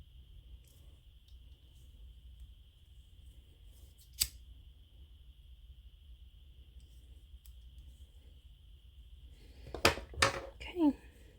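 Scissors snipping the string ends off a pumpkin-themed friendship bracelet, one sharp cut early and then a quick cluster of snips near the end, close and clear over a quiet room with a faint steady hum.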